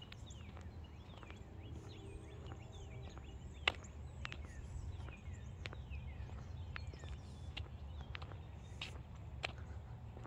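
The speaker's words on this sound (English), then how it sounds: "It's nice to hear the birds." Birds chirp and call outdoors on a warm day in a garden, with brief thin chirps scattered across a soft, steady background hum and the occasional nearby footstep.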